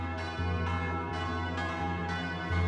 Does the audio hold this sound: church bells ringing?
yes